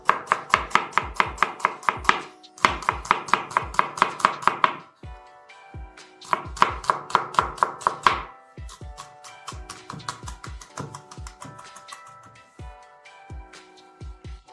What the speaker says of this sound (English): first we need to slice it lengthwise into thin strips